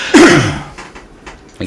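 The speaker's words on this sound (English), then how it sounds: "Excuse me, coughing." A single sharp cough bursts out near the microphone during a live English class, followed by quieter breaths and small throat sounds.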